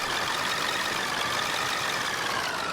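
A steady, dense truck engine drone in Farming Simulator 2015, holding constant and loud throughout with no pauses or changes in pace.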